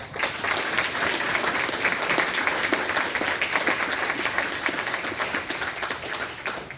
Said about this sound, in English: Everybody, let's give him a round of applause.